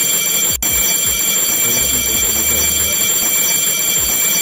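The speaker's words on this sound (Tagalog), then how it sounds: "ganyan lang po ang pag-testing ng ating fire detector alarm system" A fire detector alarm system under test gives off steady high electronic tones that ring on continuously and loud, with one abrupt click early on and faint low rumbles underneath.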